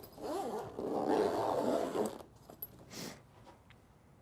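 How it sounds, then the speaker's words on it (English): A zipper runs along a fabric case holding a geophysical sensor, one close and fairly quiet pull lasting about two seconds, followed by a few soft handling knocks and rustles. "Close the top and zip it up."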